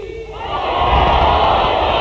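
Large crowd at a religious gathering shouting a slogan in unison, a loud swelling roar of many voices that builds after a brief lead-in and holds steady.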